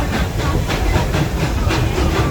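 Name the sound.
tourist train ride at Busch Gardens, Florida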